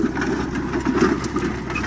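A farm tractor engine runs steadily while pulling a 10-foot disc harrow with a drag behind it in a field. A loud, constant, low rumbling drone with no talking.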